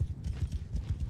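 Horse hooves gallop in Mount & Blade II: Bannerlord, a fast, rhythmic clip-clop of several horses, loud and close, with no talking.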